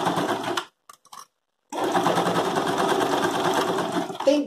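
Sewing machine stitching bias binding with a straight seam runs in a fast, steady mechanical whir, briefly stopping and starting before running loud and continuous to the end.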